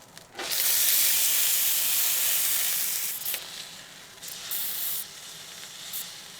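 Tri tip steak sizzles loudly on a grill just after being flipped, a close, dense hiss that swells, eases a little, then continues with several sharper crackling bursts.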